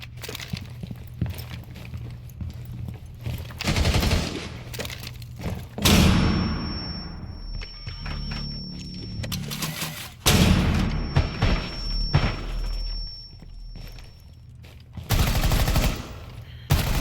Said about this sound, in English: You see how whenever I threw those flashbangs, I was able to push in and secure the kill on Thunderbird?